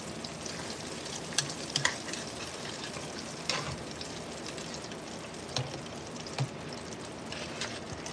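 Steady crackling sizzle of fish frying in hot oil, with occasional sharper pops and spits, fairly quiet and continuous.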